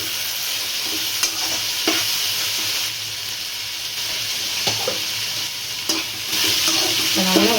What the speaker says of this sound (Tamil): இப்போ நம்ம தக்காளி போடுறோம்மா